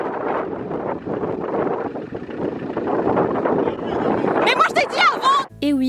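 Strong wind on a gusty Montenegro shore buffets the microphone in loud, rumbling blasts for about five seconds, and a voice breaks through near the end.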